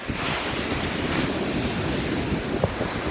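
Cold December ocean surf in New England washing around bare feet, a continuous rushing wash of water mixed with wind buffeting the microphone, with a brief splash near the end.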